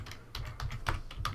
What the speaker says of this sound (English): let's type Eunice Ingham in here and we'll do a search